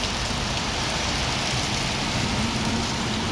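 Steady rain pours outside a house beside a main road, a dense even hiss filling the whole stretch with no break and no voices.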